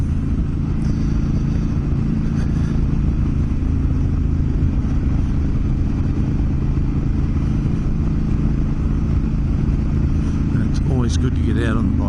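A Honda Africa Twin motorcycle cruises along an outback road near Renmark, its steady engine rumble and wind noise continuous and loud throughout, with a brief clatter near the end.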